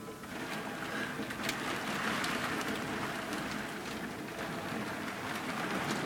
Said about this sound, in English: It's never rained like this before.